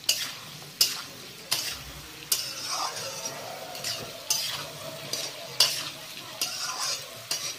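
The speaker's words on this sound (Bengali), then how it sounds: "এখন এটা লাল করে ফ্রাই করে নিই।" Pointed gourd and potato pieces fry with salt in a pan, browning. A soft, fairly quiet sizzle runs underneath while a spatula scrapes and taps at a steady rhythm, roughly once a second. No one speaks.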